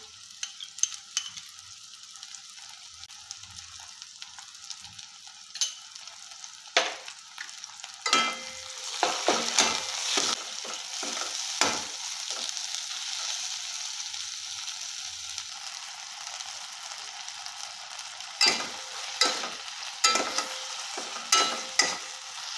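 Ginger and garlic paste sizzles in a pan alongside tomato, with bursts of frying noise and repeated scraping strokes as it is stirred, the sizzle settling into a steady hiss between louder stirring spells.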